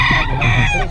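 A rooster for sale at a chicken market crows loudly and close by, a drawn-out cry with clucking tones, heard on its own.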